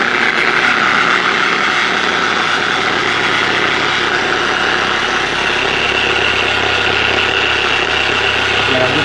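A variable speed polisher buffs compound on a 1986 Monte Carlo, giving off a steady, loud motor whir that holds at an even pitch for the whole stretch, close by and with no talk.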